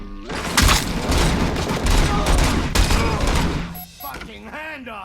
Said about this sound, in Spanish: Disparos realizados en las proximidades.